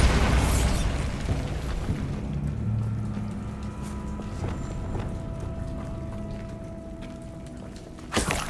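Bombarda explosion spell in Hogwarts Legacy: one loud, close blast at the start that rumbles and fades over a few seconds, then quieter debris clatter, and a second sharp burst near the end.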